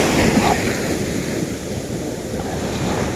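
Strong ocean waves surge at a beach in a continuous loud roar and wash, with heavy wind buffeting the microphone throughout.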